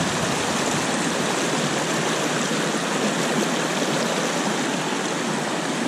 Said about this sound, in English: I've just come across my first relatively big river crossing